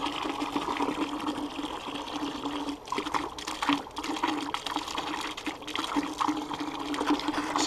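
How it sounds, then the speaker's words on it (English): Water pouring steadily into a 5-gallon bucket, a continuous splashing rush with a faint mechanical whine running underneath, fluctuating slightly in strength with no voices. "got a 5-gallon water bucket. Fill it up with water"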